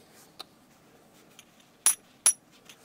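Silver Libertad bullion coins clinking together, two bright metallic chinks close by, with a few fainter taps before and after.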